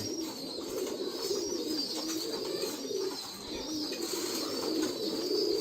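Many pigeons of mixed fancy breeds in a farm loft coo in a continuous, overlapping murmur that swells and ebbs, fairly near and moderately loud, with no talking.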